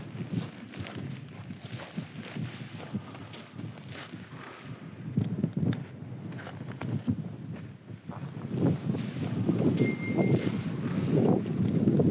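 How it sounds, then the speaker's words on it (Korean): Wind rushes steadily across an open mountain trail on a Mount Fuji trek. The gusts are broad and buffeting, swell louder toward the end, and no one speaks. "여기 바람 소리 듣는데 잠깐만 들어보자."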